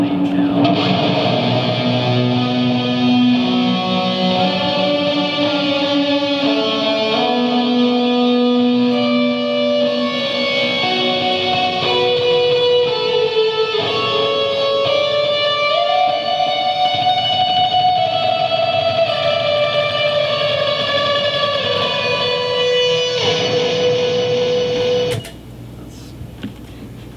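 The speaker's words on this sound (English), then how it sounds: "And then that super wet, noisy reverb lead channel." Peavey amplifier's lead channel with heavy, noisy reverb, playing sustained melodic guitar lines with long wet tails for about 25 seconds before dropping off abruptly.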